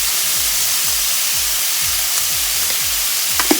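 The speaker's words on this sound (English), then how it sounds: "Let's saute this for about 1 minute." Tomato with peas sautéing in a hot pan for vermicelli upma gives a steady, close, loud sizzle and hiss throughout, with a few faint stirring clicks near the end.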